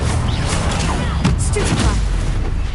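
Spell-casting blasts in Hogwarts Legacy rumble and crash as loud, dense, overlapping booms throughout, beneath a spoken voice.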